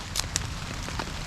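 Rain falling on a tarp shelter at a bushcraft camp, a steady patter with a few sharper drops standing out against the soft wash.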